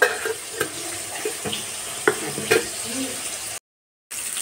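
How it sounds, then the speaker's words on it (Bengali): Fish fries in a pan with a soft sizzle and occasional spatula taps, briefly cutting to silence near the end. "মাছ ভাজা বসিয়ে দিয়ে"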